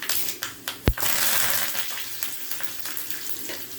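Curry leaves drop into hot oil for moru curry, a loud close crackle and sputter that then settles into a steady sizzle dotted with small pops, with a sharp knock near the start.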